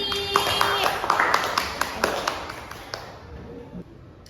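A few people clap for a student named Yogi during a classroom micro-teaching lesson, sparse separate claps in a small room that thin out and fade within a few seconds, with voices underneath.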